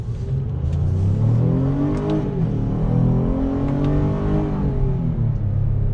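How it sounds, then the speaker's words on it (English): An Acura MDX engine revs hard as the SUV peels out and accelerates, a steady loud drone rising and falling in pitch as it climbs through the gears. "So we're gonna peel out of here and go up to about 40 miles an hour legally."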